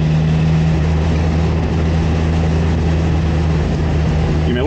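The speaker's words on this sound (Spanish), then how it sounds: "Me encanta el sonido del escape este más generoso." Steady low engine drone and exhaust rumble from a classic Renault Caravelle (1963 and 1968 models) while driving, continuous and close with no talk over it.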